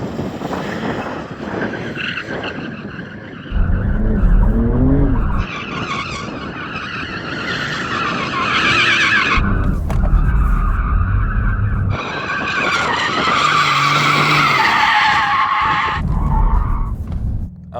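Porsche 911 sports cars, a GT2 RS, Turbo S and GT3, skid and squeal their tyres while warming them up before a drag race, with loud screeching bursts over revving engines, several distinct squeals in succession.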